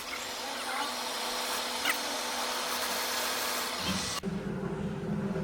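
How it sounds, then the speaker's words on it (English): A power drill boring into wood for a bass pickup ramp, heard as a steady, loud whirring whine that keeps going without a break and then shifts pitch near the end, close by. "So he clamps those down so he can drill"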